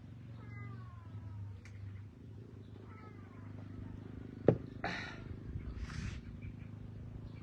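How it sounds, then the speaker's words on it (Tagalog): Several cats meow and caterwaul close by while being fed, with drawn-out calls, a sharp knock and a low purring rumble underneath, and no talk over them. "Ito mga pusa."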